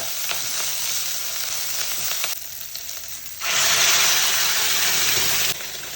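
Curry leaves and shallots crackle and sizzle in hot oil while tempering a kavath curry, a steady frying hiss that surges louder partway through and stays close, with no talk.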